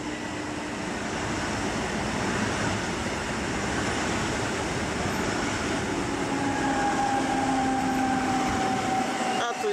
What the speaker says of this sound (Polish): A tu jedzie Naukowska do Zgorzelca. ED-161.